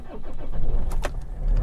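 A Land Rover Freelander small car engine fires up, the starter whirring with a quick cranking burst before settling into a low steady idle, close and fairly loud.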